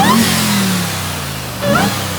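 A RAM TRX pickup truck's engine revs close up, a loud deep roar swelling at the start, settling briefly, then rising again in a second rev near the end.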